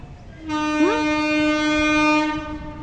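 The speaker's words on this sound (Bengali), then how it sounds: "ট্রেন গাড়ি আসছে, দেখি দেখি।" A train horn sounds nearby as the train approaches, a single sustained loud blast lasting about two seconds before cutting off.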